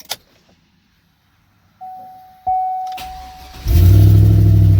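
A 2003 Chevrolet Suburban's engine starts after a starter replacement: a short tone and the starter clicking and cranking, then the engine catching and settling into a loud, steady idle close by.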